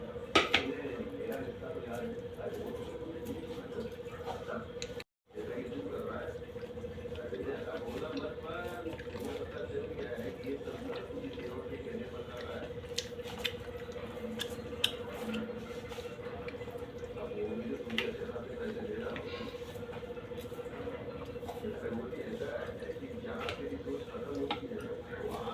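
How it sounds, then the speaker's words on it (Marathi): A knife cuts roasted chicken into small pieces for homemade shawarma, producing soft, repeated taps and squishy slicing sounds on a board, close and steady over a constant background hum. "आता चिकनचे बारीक बारीक तुकडे करून घेऊया छान असे।"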